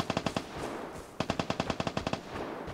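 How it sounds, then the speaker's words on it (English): Machine-gun fire in the video game Vigor, heard as two rapid bursts of sharp, evenly spaced shots, about five and then ten, separated by a short pause and fairly close. "Every time they fire, they're giving away their position."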